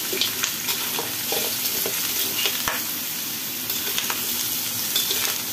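Braised pork trotter is stirred in a frying pan, a steady sizzle with scattered scraping and knocking taps of the utensil, close and continuous with no voices.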